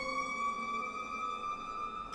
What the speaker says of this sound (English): Pardon the siren, something's happening.